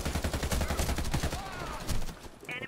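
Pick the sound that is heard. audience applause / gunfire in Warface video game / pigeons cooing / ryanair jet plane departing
gunfire in Warface video game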